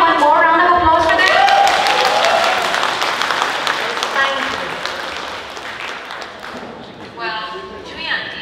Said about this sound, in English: can we have one more round of applause for them?